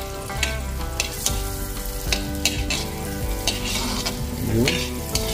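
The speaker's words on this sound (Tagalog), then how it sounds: "Nilagyan lang natin ng konting butter, kinalat natin sa ating kawali." Butter sizzles and crackles in a frying pan while being stirred, with loud irregular scraping strokes over a constant close-up frying hiss and no talking.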